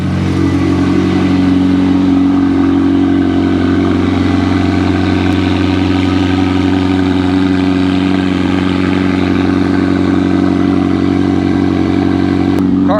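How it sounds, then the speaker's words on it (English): A McLaren Elva supercar idles steadily after a push-button start, its deep, loud, even engine drone with a light mechanical clatter holding close and alone for the whole stretch. "we will go ahead and listen to the car"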